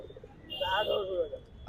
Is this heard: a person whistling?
no